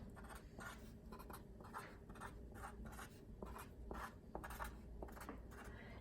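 Pen scratching and tapping on paper while drawing a muffin tin array of five rows of three, a steady close scribbling with short strokes and a few sharper taps.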